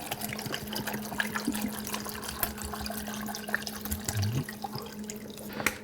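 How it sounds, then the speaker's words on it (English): Apple juice poured over apples in a pot, a soft steady trickling and dribbling of liquid lasting several seconds, fairly faint and close, with a low background hum and no talk. "Now I'm going to pour some apple juice in,"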